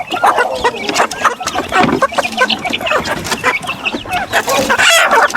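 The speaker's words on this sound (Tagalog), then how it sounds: "Mga sisiw." Chickens and chicks clucking loudly and close by, with continuous overlapping clucks and cheeping, and a crow-like call rising near the end.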